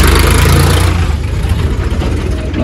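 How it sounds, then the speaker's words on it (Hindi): Several tractor engines idle together at a brick kiln, a loud, low, continuous diesel rumble close by with a slight rise and fall. "ट्रैक्टर देख लो कितने इकट्ठे हो गए,"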